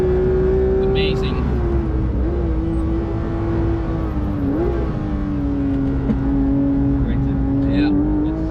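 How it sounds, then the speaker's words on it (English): A Porsche GT3 engine with a racecar handling mod, held near the rev limiter on the Nürburgring, droning loud and steady with brief dips in pitch, while a driver talks over it. "Here I'm in the rev range or in the rev limiter way before I used to be."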